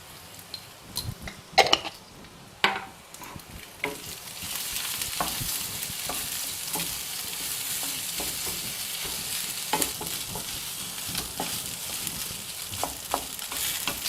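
Cooked rice frying in a pan with turmeric and salt, a steady close sizzle with a few loud stirring scrapes and clinks near the start, and no talking.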